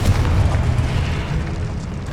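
A Confringo spell explodes in the video game Hogwarts Legacy, a loud, deep boom with a rumbling tail that fades gradually over two seconds.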